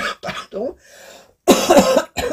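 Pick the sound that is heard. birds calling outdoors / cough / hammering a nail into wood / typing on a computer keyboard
cough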